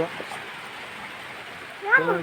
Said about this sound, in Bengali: দেখো প্রচুর প্রচুর পরিমাণে বৃষ্টি হচ্ছে